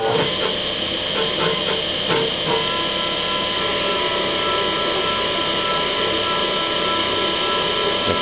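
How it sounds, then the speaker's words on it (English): A CNC machine runs a synchronized threading cycle, giving a steady, loud broadband whir and hiss that holds constant throughout, with a few faint clicks near the start and no talk. "I'm going to hit cycle start and go ahead and start the cycle."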